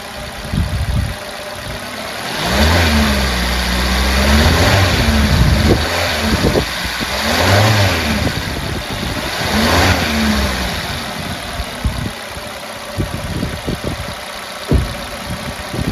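A car engine idling close by is revved repeatedly during a mass air flow sensor test, with four or five rising and falling throttle swells over a steady idle, ending in uneven low thumps; no one speaks.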